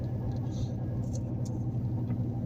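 Truck cruising at 50 miles per hour, heard from inside the cab: a steady, loud low engine and road rumble that holds constant throughout, with no pauses.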